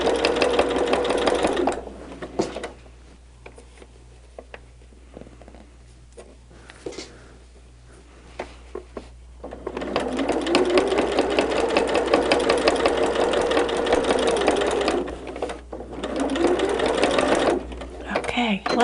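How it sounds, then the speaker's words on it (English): A sewing machine fitted with a walking foot stitches in two long runs during simple machine quilting, loud and close with a steady rapid mechanical whir, separated by a quieter pause with faint handling noises. "You can still hear how this machine makes a little bit more noise with this walking foot."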